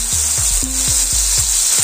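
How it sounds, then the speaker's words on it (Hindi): Ginger-garlic paste sizzles loudly in hot oil in a pan after asafoetida, mustard seeds and cumin, with a dense, continuous frying hiss and a few low knocks from stirring. "अदरक लहसुन का पेस्ट डाल देंगे।"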